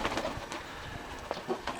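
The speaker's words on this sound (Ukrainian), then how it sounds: "Да, голубята." Pigeons at a rural dovecote coo softly in short, low, overlapping calls at close range, against faint outdoor background noise.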